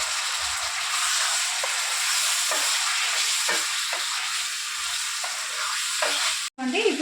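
Chicken pieces fry in a pan with ginger paste, a loud steady sizzle and hiss with a few soft stirring knocks, then a brief cut near the end.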